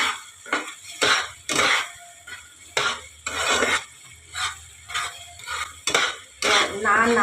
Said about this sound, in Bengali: এই যে নেড়ে নেড়ে নেড়ে নেড়ে এটাকে, জলটাকে পুরো শুকনো করতে হবে।